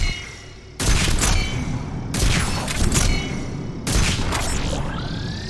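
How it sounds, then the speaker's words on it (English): Chakram launcher in Mass Effect 3 firing discs that lodge in the target and explode, three loud sharp blasts about one and a half seconds apart, each trailing into a rumbling, crackling decay. "it fires the disc, and it plants itself into the target and blows up"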